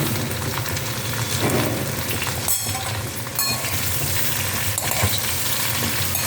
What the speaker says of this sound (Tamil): கொஞ்சம் வதங்கிக்கட்டும்.